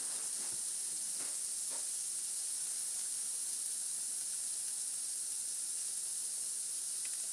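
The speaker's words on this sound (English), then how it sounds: "we're sautéing the peppers because it's gonna be faster" Peppers sautéing in a pan, a faint, steady hiss with a few soft ticks early on, continuous and even throughout.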